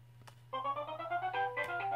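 A mobile phone ringtone plays a bright melodic tune at moderate volume in a quiet room where someone is crafting a bag-style notebook, starting after a short pause and continuing steadily.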